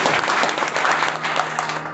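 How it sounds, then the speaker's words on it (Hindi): Audience applause at an RCM business gathering, a loud, dense burst of many hands clapping together for about two seconds with no voices over it. "जोरदार तालियां होनी चाहिए।"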